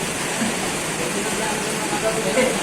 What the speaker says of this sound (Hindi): और बारिश भी गिरा।